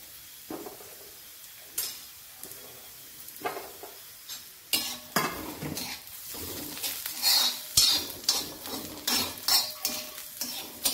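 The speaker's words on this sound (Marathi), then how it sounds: "कांदा आता भाजत आलाय. जरा आलं भाजून घेते, लसूण भाजून घेते." Onion, ginger and garlic roast in a pan for a crab curry masala, with repeated metal spoon scrapes and clinks against the pan over a soft sizzle, the stirring growing quicker toward the end.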